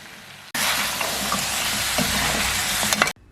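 Mutton sears in a hot pan as garam masala, red chili and turmeric go in, a loud, dense sizzle that starts abruptly, holds steady for about two and a half seconds with faint scraping, then cuts off.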